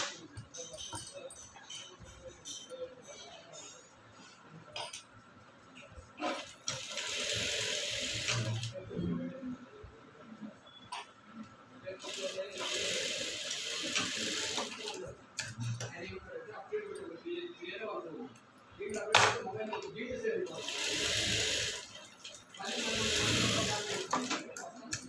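A sewing machine stitches a blouse seam in short, repeated whirring bursts of a few seconds each, with a person talking between and over the runs.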